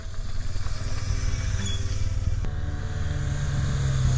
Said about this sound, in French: Patrick, sur leur 1200 GSALC, ont l'habitude de faire du TT en duo.